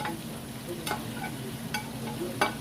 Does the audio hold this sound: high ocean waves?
no